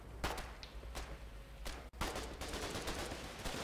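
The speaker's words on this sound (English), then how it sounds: "Shoot the Foxhole with the machine gun." Heavy machine gun fire in the war game Foxhole, sounding as sharp repeated bursts of shots at a moderate distance, with a brief gap midway before the firing resumes.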